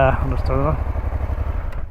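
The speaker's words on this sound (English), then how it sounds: "So have a look at the sound of the engine, right?" A Honda Transalp motorcycle engine idles with a low, steady, rhythmic throb throughout, while a person talks briefly over it.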